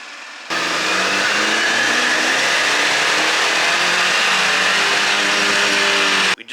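Tuned Chevy Silverado engine running E20 ethanol blend on a dyno revs hard and continuously, rising in a long sustained pull and dropping abruptly at the end, loud and close with no voices.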